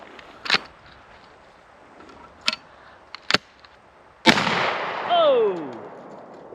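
A single loud boom from a double-barrel shotgun firing a copper-plated rifled slug, preceded by a few sharp clicks and taps and followed by a brief whoop-like voice.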